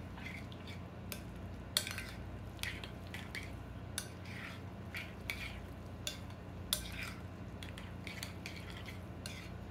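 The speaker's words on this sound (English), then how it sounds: "Stir it all in." A utensil stirs food around a pot, making close, quiet scraping and clinking with soft squishy sounds at irregular intervals over a low steady background hum.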